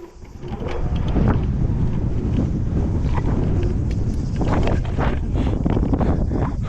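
Strong wind buffeting the microphone outdoors at a pumptrack during a BMX wallride session, a continuous loud low rumble rising in the first second and holding steady with gusty fluctuations.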